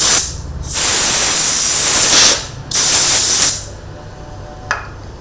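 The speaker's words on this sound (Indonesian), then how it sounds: "Kita bisa semprot dulu." Aerosol cleaner sprayed during cleaning of a B4-mount broadcast camera lens, two long close hissing bursts of about two and one seconds each, followed by a faint short click.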